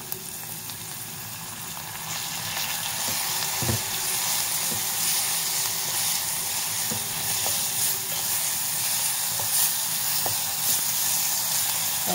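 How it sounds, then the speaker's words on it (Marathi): Ground masala paste sautéing in a hot tempering for taro leaf buttermilk curry, a continuous close sizzle that swells after a quieter start, with occasional spoon scrapes and clicks and no talking. "हे वाटण चांगलं 2-3 मिनिटं परतून घेऊया, म्हणजे मग भाजीला चांगला खमंगपणा येईल."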